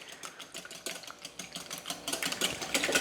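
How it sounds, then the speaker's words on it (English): Eggs being whisked together in a bowl for French toast, a quick, continuous clatter of rapid light taps and scrapes that grows slightly louder toward the end, close and unaccompanied by talk. "I'm going to beat these eggs up here, whisk them together here"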